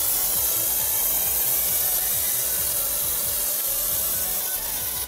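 An IK Foam Pro 2 pressurized foam gun sprays foam in a steady, continuous hiss. The spray is close and fairly loud, running unbroken for several seconds before easing off at the very end.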